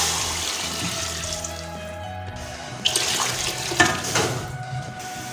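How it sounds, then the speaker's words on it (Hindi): Chicken stock is poured over chicken in a pot while a yakhni pulao is made, a steady close liquid pour with a couple of sharper splashes near the end, no talking. "अब हम चिकन में यहनी शामिल कर देंगे।"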